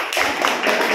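Hands clapping in a primary school classroom, a quick run of several claps in a steady rhythm, fairly close and loud.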